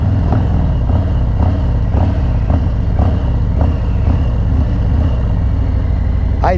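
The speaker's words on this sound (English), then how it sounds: "you could do a constant blips on the throttle like this" A motorcycle at low speed gets a run of short, regular throttle blips, each a quick engine surge repeating about twice a second, loud and close.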